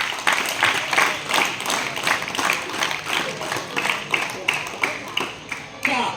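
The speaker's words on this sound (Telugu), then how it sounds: "క్లాప్స్." Applause from a school crowd at the announcement of student leader election results, a steady patter of many hands clapping for about six seconds at moderate loudness.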